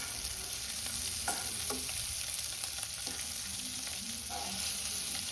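Egg masala fries in a pan with its second side cooking, giving a faint, steady sizzle under a low background hum, with a few soft clinks and scrapes.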